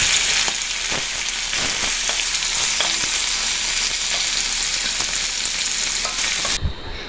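Fish fry in oil in a kadai with a loud, dense crackling sizzle and occasional spatula taps, close and unbroken until it cuts off abruptly near the end, with no speech.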